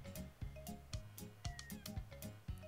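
A cat meows several times in the Littlest Pet Shop video game on the Nintendo Wii, with short bright cries recurring over steady, busy game music.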